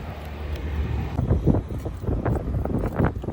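Wind gusts buffet the microphone outdoors: a steady low roar that swells after the first second, with no speech.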